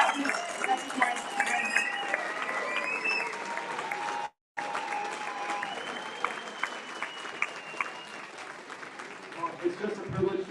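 An audience at a veterans' freedom event gives a long, lively round of applause with cheers and shouts, the clapping continuing after a brief cut and voices calling out over it.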